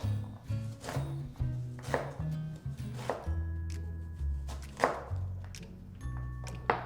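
A knife chops poke ingredients into cubes on a cutting board, about a dozen sharp, irregular thunks close by, with no talking.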